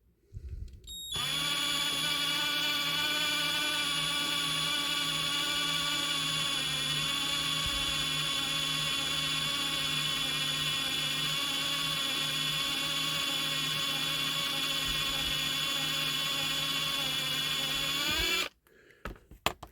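A power drill whines at a steady high pitch for about seventeen seconds, drilling into a 1968 Matchbox Foden concrete mixer lorry diecast model, close and continuous, then stops abruptly.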